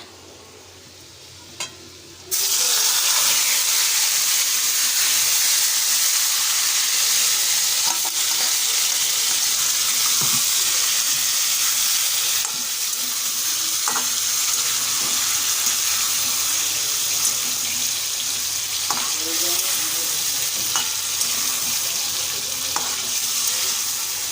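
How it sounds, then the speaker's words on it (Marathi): Marinated liver hits a hot pan with curry leaves and crushed garlic and breaks into a loud, steady sizzle, with occasional scrapes and taps of a spoon stirring and sautéing close by. "हे सगळं आता मी मिक्स करून घ्यायचं, व्यवस्थित परतून घ्यायचं आहे"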